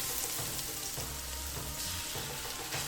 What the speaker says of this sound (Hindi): एक कढ़ाई में 3 चम्मच ऑयल, 1 चम्मच गार्लिक, थोड़ा सा फ्राई करने के बाद